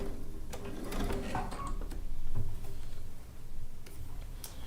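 A sewing machine fitted with a digital dual feed foot stitches binding onto a quilt, a steady close mechanical whir with light ticking and clicking throughout, no voices.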